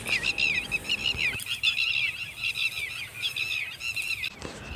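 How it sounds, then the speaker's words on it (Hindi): A red-wattled lapwing repeats loud, shrill, insistent calls in quick bursts, piercing and fairly near, over steady outdoor farmland background noise. "इंग्लिश में इसे रेड वेटल्ड या लैप विंग भी कहते हैं"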